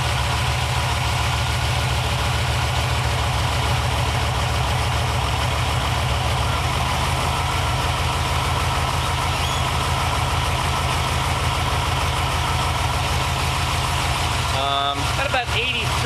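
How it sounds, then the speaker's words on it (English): A car engine idles steadily with an upgraded high-output alternator charging under load, a close, constant low drone that holds for the whole stretch before a brief rattling disturbance near the end. "the engine RPM in the background was actually coming down a little bit because the alternator is making substantially more output"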